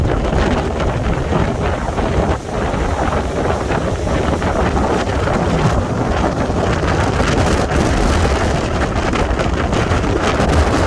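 Strong wind roars steadily into the microphone at docks ahead of an approaching thunderstorm, buffeting loudly with broad rushing gusts and a faint watery slap of water against the docks beneath.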